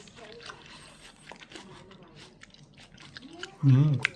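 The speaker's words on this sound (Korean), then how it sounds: "청포도 진짜 아삭하다" Crunchy green grapes being chewed close up, a series of crisp, wet crunches with a brief hummed voice near the end.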